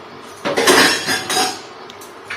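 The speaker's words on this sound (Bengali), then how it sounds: "ঢাকনাটা আটকে দিয়ে এটাকে বসিয়ে সিটি দিয়ে দিতে হবে একখানা" Metal clatter of a pressure cooker lid being fitted and locked onto the pot while making niramis khichuri, a few sharp clanks and clinks close by, no talking.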